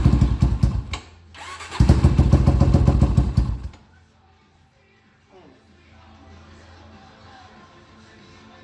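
Cold Yamaha YFZ450R quad with choke on fires up loudly with a fast, clattering single-cylinder bark, runs roughly for about two seconds, then cuts out to near silence with only a faint low hum afterward.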